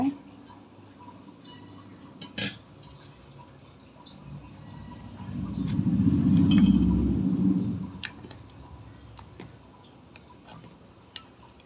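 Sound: jaggery syrup strained through a sieve

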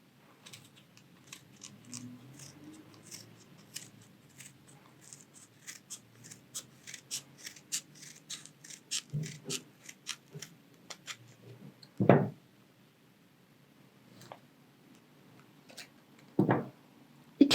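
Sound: scissors cutting material for a Christmas beret craft

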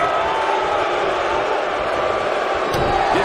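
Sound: crowd cheering in WWE 2K19 wrestling video game

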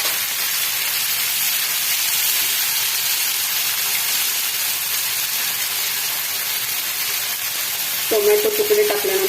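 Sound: onion and tomato pieces frying in oil

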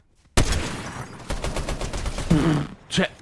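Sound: gunshots from the video game Fortnite

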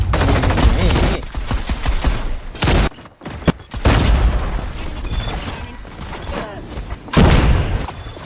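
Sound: video game grenade explosion and gunfire

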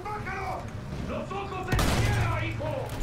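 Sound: gunfire in Battlefield 1 video game

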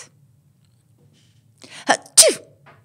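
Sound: sneeze

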